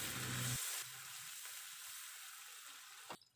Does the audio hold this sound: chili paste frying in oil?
yes